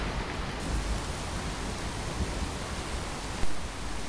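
Steady rain pours down in the Fallout 4 game world, a dense, even hiss of falling drops with a brief louder splash near the end and no voices.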